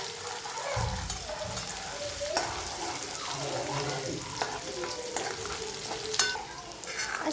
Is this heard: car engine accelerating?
no